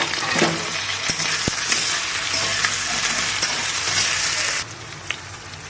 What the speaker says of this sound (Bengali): এটা আদা রসুন একসাথে মিক্স করে বাটা দিয়ে দিচ্ছি আলুটা দিয়ে দিচ্ছি